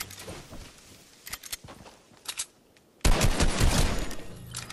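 Gunfire from an AK assault rifle in a video game: scattered shots early on, then a sudden loud, sustained burst of rapid automatic fire that fills the last part of the clip.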